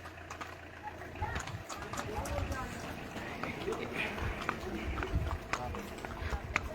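A horse clip-clopping along a road at a walk, with irregular hoof knocks close by amid crowd chatter and voices talking over the steps.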